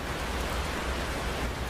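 Steady rain falling in a rural setting outside a hut, a dense, even hiss that holds at a constant level throughout with no voices over it.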